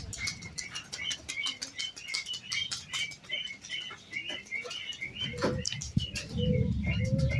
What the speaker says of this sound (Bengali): এই যে হাই ফ্লাইং কবুতরগুলো এই দেখুন, বসতে গেলে পরে কতটুকু সময় নেয়